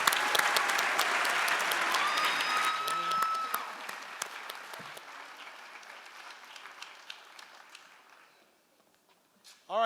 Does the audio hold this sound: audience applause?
yes